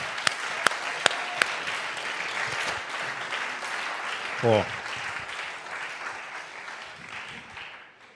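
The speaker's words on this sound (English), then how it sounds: "Applause to yourself." Conference audience at the Biohacker Summit applauds steadily for about eight seconds after a few sharp early claps, fading toward the end, with a brief spoken word from one person midway.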